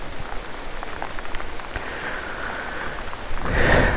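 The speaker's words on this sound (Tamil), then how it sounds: "மழை பெய்ய ஆரம்பிச்சிருச்சு." Rain falls outdoors on a hillside path near Black Rock waterfalls in Kanyakumari, a steady close hiss with scattered drops that swells louder near the end.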